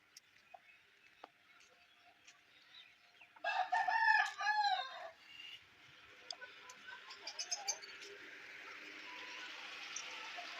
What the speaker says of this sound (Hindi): ये नया मुर्गा है।